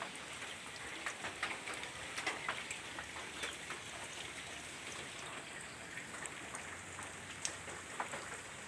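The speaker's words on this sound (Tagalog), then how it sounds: "Umuulan. Umuulan dito." Steady rain patters outdoors where pigeons are being flown, a soft, even hiss with scattered sharper drops landing close by, fairly faint and without voices.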